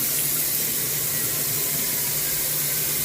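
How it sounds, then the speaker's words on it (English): Tap water runs steadily and loudly into a cooking pot being filled for boiling noodles, a continuous hiss and splash with no break and no talking. "I'm gonna go ahead and fill it with water"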